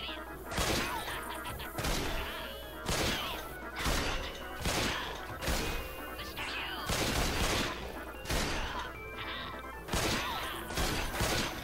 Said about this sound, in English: I'm going to shoot them because it's faster